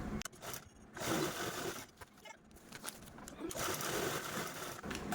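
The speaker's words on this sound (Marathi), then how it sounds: "हा जो कडेकडेचा पार्ट आहे आपण फोल्ड केलेला तो आता आपण या स्टेजला स्टिच पण करून घेऊया" A sewing machine runs in bursts, stitching the folded edge of old cloth, with short pauses between runs of a steady, close mechanical whir.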